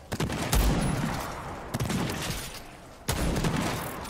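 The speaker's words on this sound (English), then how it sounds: "Stop shooting me" Gunfire in the video game Remnant II, with sharp shots and rattling bursts that repeat in clusters, separated by brief lulls with reverberant tails.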